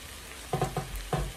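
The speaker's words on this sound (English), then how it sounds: "Cover it, reduce the fire to low heat for everything to simmer" Breakfast simmering in a covered pan over low heat gives a soft, steady frying sizzle with a few brief stirring or lid clicks, heard close and fairly quiet with no talking.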